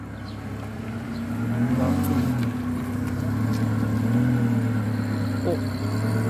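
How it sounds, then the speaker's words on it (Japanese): Ferrari 430 engine running at a supercar gathering, a deep steady mid-pitched drone that swells slightly as revs rise, close and moderately loud with people talking nearby. "フェラーリ430か。"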